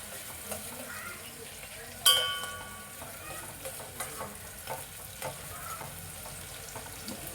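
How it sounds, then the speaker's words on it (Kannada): Onions frying in oil in a pan while a home cook prepares a Sunday chicken gravy, with a faint continuous sizzle, a brief clatter near the start and scattered soft stirring clicks. "ಇಲ್ಲೇ ಹುರ್ಕೋಬೇಕು ಈರುಳ್ಳಿ ಫ್ರೈ ಆಗಬೇಕು"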